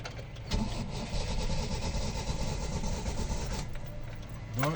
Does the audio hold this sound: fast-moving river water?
no